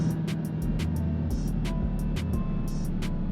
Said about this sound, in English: Yo, this car be moving.